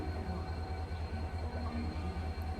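Delhi–Kathgodam Shatabdi Express train rolling along with a steady low rumble and a regular, rapid clatter of wheels over rail joints, heard from inside or close by, with no voices.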